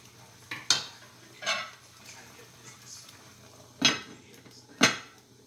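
Curry goat cooking in a pot, with a few sharp metal clanks of a spoon against the pot and soft scraping stirs between them, close and without talk.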